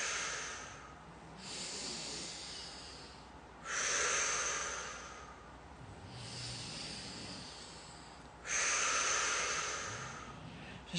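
Slow, deep breaths during a seated fascial stretch, each long airy exhale rising and fading in a steady rhythm, close and quiet with no talking.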